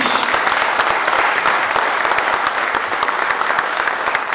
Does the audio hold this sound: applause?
yes